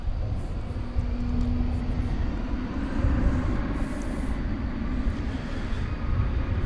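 An American Airlines jet at DFW Airport at night, a steady broadband engine roar holding at a constant level from start to finish, with no talk over it.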